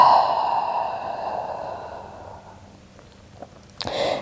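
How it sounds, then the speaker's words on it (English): A long, soft breath exhaled through the mouth during a gentle yoga session, steady and close, fading out over a few seconds before a brief rustle, with no talking. "Exhale out through the mouth."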